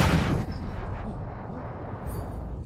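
A sacred testing stone bursting apart in a loud, booming blast that opens with a sharp crack, then a rumbling, dusty roar that slowly fades, with a faint bright shimmer near the end.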